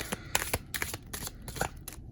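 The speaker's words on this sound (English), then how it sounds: "Now we do one shuffle." Tarot cards being riffle-shuffled by hand, with a quick run of crisp bursts of flicking and riffling close by and no voice over it.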